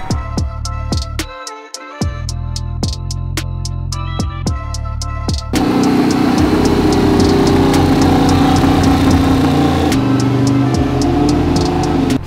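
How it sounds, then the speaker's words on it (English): A new 427 LS engine running on a dyno during break-in, twin Garrett turbos and a big fuel pump fitted; steady idle pulses give way to a louder, rougher sustained run at higher revs, close and continuous. "So right now we just spent some good amount of time braking in the motor"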